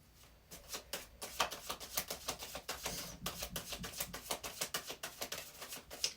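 Tarot cards being shuffled, a steady run of crisp riffling slaps and soft patters repeating for several seconds, close and fairly quiet with no talking.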